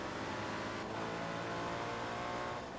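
Race car engine in Forza Motorsport 2 on Xbox 360, a loud continuous roar that climbs and holds at high revs for about three seconds, with no talking over it.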